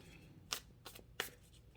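Tarot cards being shuffled, a quiet riffle with three short bursts of papery flutter, nearby and soft, with no voices.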